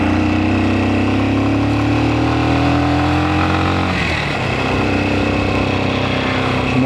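A motorcycle engine hums on a rural countryside road near Faratsiho, loud and close, with its pitch climbing, then dipping as a gear is changed before it settles back into a steady drone.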